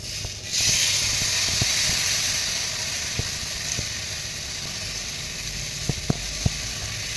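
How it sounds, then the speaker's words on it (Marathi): Oil sizzling and hissing in a hot pan as dhirde batter goes in, a sudden loud steady hiss that slowly fades, with a few sharp ticks and pops toward the end. "आपलं तापलेलं आहे. तेल टाकूया."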